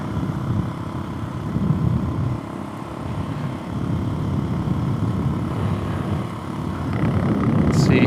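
A Suzuki DRZ 400SM motorcycle engine drones loud and continuous while riding, with wind roar mixed in and the pitch rising slightly toward the end.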